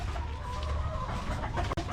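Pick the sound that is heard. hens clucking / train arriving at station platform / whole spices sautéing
hens clucking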